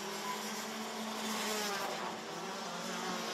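A Rotax Max racing kart engine at a Wackersdorf race buzzes continuously as the throttle is eased on and off out of a corner, a steady, fairly loud whine with slight pitch wavering.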